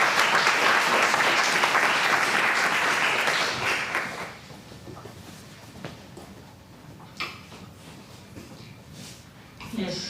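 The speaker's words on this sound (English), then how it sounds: "Applause." Applause from a conference audience: loud, dense clapping for about four seconds, then tapering off to scattered claps and room murmur with some talk.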